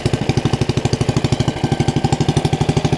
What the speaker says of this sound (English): it's running with the 26 millimeter carburetor.